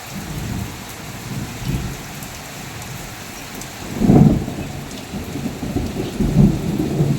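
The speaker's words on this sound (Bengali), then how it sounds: "প্রচণ্ড পরিমাণে বৃষ্টি হচ্ছে" Heavy rain pours steadily, close and loud, while low thunder rumbles swell several times, the strongest midway through, with no voices.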